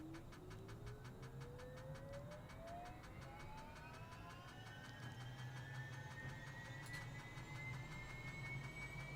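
A Bell 206 JetRanger helicopter turbine starting up in Microsoft Flight Simulator, faint whining tones climbing steadily in pitch over a low continuous engine rumble.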